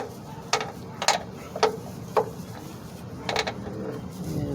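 Wrench on the oil drain plug of a Shelby GT350H during an oil change: a handful of sharp ratcheting clicks in short bursts, fairly close and moderately loud, with quiet pauses between strokes.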